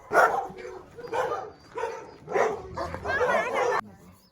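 Several dogs at an animal shelter in Alanya bark and yip in repeated overlapping bursts nearby, mixed with whimpering, with a person's voice also heard.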